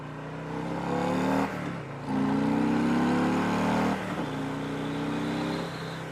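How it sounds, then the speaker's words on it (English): Wind roars across the mic while riding a Harley-Davidson Fat Boy 114 motorcycle, a steady broadband rush over the engine's droning hum that swells and eases as speed changes. "Sorry for the wind, guys."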